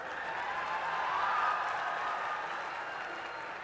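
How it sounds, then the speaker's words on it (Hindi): A crowd at the Kashi Tamil Sangamam closing ceremony applauds to welcome guests onto the stage, a soft, even roar of clapping that swells slightly and then holds steady, somewhat distant. "सभी का तालियों की गूंज के साथ स्वागत कीजिए।"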